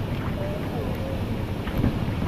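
Rushing water of the Ayan Falls waterfall in the mountains, a steady broadband roar with wind buffeting the microphone, constant and close throughout.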